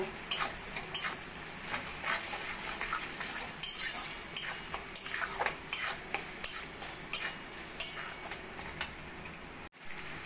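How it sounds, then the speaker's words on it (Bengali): Spices with cumin powder and grated ginger frying in a pan for bottle gourd curry, a continuous sizzle broken by regular clinking scrapes of a spoon against the pan, close up with no talking. "এবার মশলাটা ভালো করে আমি কষিয়ে নেব"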